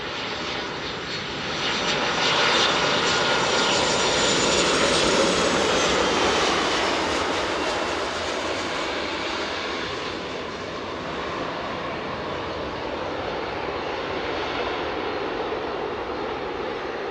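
A DHL Boeing 757 freighter's engines rumble loudly and steadily at East Midlands Airport during a night pushback, a broad continuous roar that swells after the opening seconds and holds throughout with no talk.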